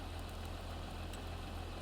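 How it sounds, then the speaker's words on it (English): A Case tractor engine idles in a field, a faint, steady low rumble with an even pulsing throb and no voices. "So to begin with, I will jump on our case tractor."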